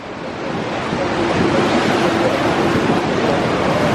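Ocean surf surges and crashes against a flat rock ledge at Garth's Rock in Quobba, a steady roaring wash of breaking waves with gusting wind noise, loud and continuous throughout.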